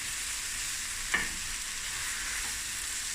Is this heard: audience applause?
no